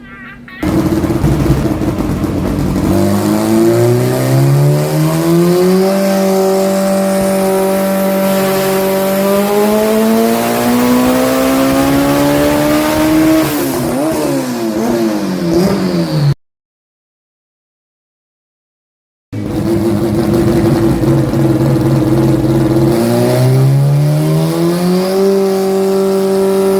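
A highly boosted Honda CRX running on a chassis dyno screams loudly as its engine revs climb and hold near 5,200 RPM, a sharp rising whine that briefly cuts out before resuming at full roar.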